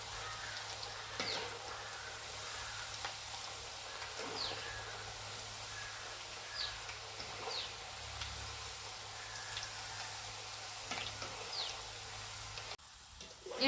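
Tapioca chips fry in oil over a medium flame with a steady, soft hiss, while faint crackles and pops rise now and then across the whole stretch.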